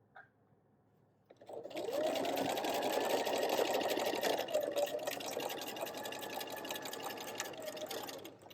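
A sewing machine runs steadily for several seconds, stitching across the top edge of a zipper on a miniature doll backpack. It starts after a brief quiet pause and holds an even, close mechanical whir.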